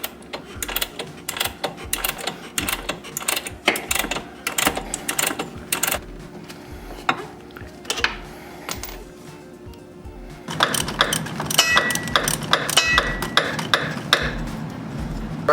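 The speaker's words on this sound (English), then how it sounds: "So we're going to use a 3/4 inch wrench to get this off." Metallic clicks and taps of a 3/4 inch wrench loosening the front shock bolts on a Harley-Davidson Softail, a busy irregular ratcheting rhythm up close, growing denser and louder toward the end.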